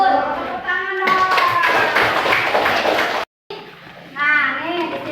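Children clap their hands together in a classroom, a dense burst of claps mixed with young voices talking and calling out, followed by a brief pause and more chatter.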